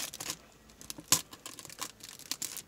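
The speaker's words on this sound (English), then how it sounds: "this plastic very crackly" Crackly plastic packaging crinkling and tearing up close as a Japanese collector's edition of the game Atelier Ryza 2 is unboxed, in short irregular rustling bursts with one sharper rip, no talking.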